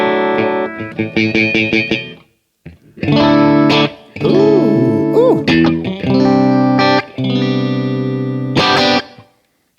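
A black 1995 Fender Strat Special with Sumerian Cobalt noiseless pickups, played through a Walrus Audio Julia chorus pedal: bright chords and warbling, wavering notes ring out in phrases with short gaps, and a voice briefly exclaims.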